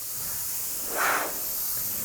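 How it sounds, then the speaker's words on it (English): Airbrush spraying paint onto a biomechanical skull piece, a soft steady hiss of air that swells into one short, brighter burst of spray midway before settling back to a faint constant hiss. "I'm going to make sure I spray enough on my piece, on the tape itself"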